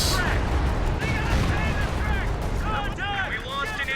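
Artillery barrage in the video game Company of Heroes 2 lands on a ZiS gun, a cluster of booming impacts and gunfire while a caster talks over the battle.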